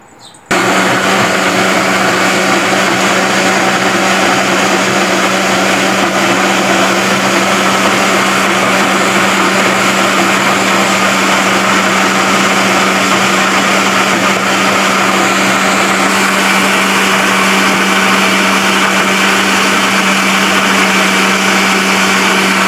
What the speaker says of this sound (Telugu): ఇప్పుడు దీన్ని మెత్తగా మిక్సీ పట్టుకుందా.